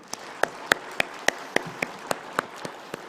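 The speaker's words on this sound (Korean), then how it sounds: "박수 한번 해드릴까요?" Scattered, sparse clapping from a church congregation during a Sunday morning communion service, a dozen or so sharp individual claps spread evenly over a few seconds at moderate distance, with no voices.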